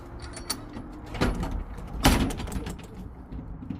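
A truck trailer's rear door is opened and then shut during a pre-trip inspection, with two solid metallic clunks and rattles about a second apart over steady outdoor background noise.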